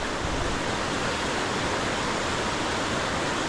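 A steady, broadband roar of a waterfall in Alaska fills the clip, constant and fairly loud, with no voices.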